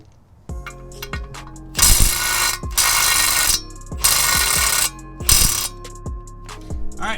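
Power tool, likely a ratcheting drill or impact driver, working bolts loose while a 1200hp-rated transmission is swapped, giving several loud close bursts of whirring and clicking separated by short pauses, with no talking.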